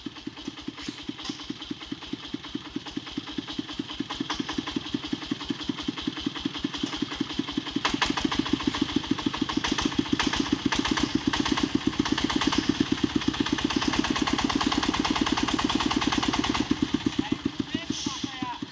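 A Vietnamese công nông farm tractor engine, fitted with a muffler, chugs steadily with a rapid, loud, even thumping as it climbs a hill in the rain, growing louder midway. Voices speak occasionally over it.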